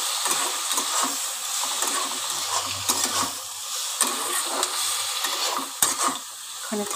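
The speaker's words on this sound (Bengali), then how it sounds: "এবার পেঁয়াজের সঙ্গে চিংড়ি মাছটাকে ভাজা ভাজা করে নেব" Steady frying sizzle of prawns and onion fills the background while a utensil stirs and scrapes the pan with irregular clinks and knocks.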